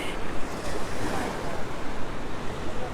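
Ocean surf on a Sanibel Island beach near the West Wind Inn rolls in steadily, a loud washing roar with wind buffeting the microphone, no voices.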